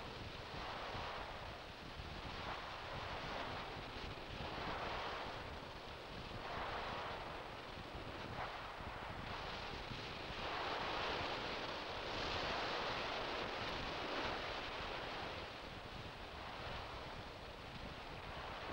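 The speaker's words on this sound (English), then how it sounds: "Let's find out what effect waves like these have on a beach." Ocean waves breaking on a sandy beach, a continuous rushing surf that swells and recedes in slow pulses every few seconds, with wind noise over the microphone and no voices.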